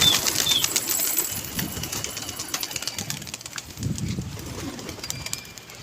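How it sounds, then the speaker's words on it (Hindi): Pigeons are released from a rooftop and take off, with soft wing flapping and faint cooing over an outdoor breeze, fairly quiet and at a moderate distance. "तो भाई कबूतर खोल रहे हैं।"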